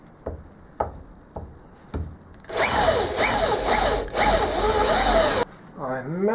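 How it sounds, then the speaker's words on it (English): A power drill countersinks holes in Zamac, a zinc alloy, with a few faint taps first, then a loud whining bite lasting about three seconds that rises and falls in pitch, followed by a brief spin-down. "Countersinking Zamac is a lot easier than countersinking steel."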